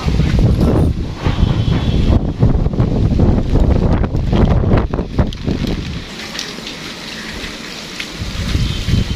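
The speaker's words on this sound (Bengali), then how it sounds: "অনেক বাতাস এবং ঝড় হচ্ছে" Strong wind buffets loudly with heavy rain pouring down during a storm in Faridpur, Bangladesh, gusts rising and falling in a close, rumbling roar.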